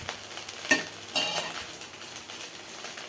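A spatula scrapes and stirs cooked rice in a pan for Konaseema-style fried rice, giving a few soft clinks and a scraping sweep over a faint low sizzle.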